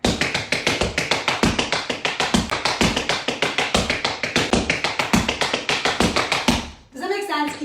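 Tap shoes beat out a fast, steady triplet-clave paddle-and-roll pattern on a wooden practice board, each crisp strike close and loud in an unbroken run, ending with a brief shuffle and rustle.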